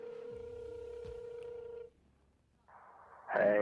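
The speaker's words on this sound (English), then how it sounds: "Call the number. I haven't tried this. It's ringing." A telephone line rings after a hotline number is dialled: a steady ringback tone for about two seconds, then a short quiet gap, then a brighter electronic burst as the call connects, with no speech.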